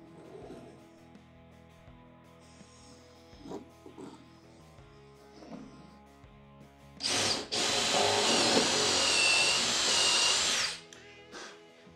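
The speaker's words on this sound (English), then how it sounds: "pre-drill for my jigsaw blade to go down through" Power drill boring a pilot hole for a jigsaw blade in a wooden cornhole board, a loud continuous whine lasting about four seconds after a stretch of quiet workshop handling noises, then stopping abruptly.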